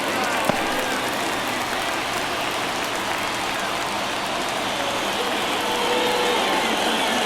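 A packed baseball stadium crowd at a White Sox–Cubs game in a tense one-run ninth inning: a dense, continuous roar of voices that swells slightly toward the end.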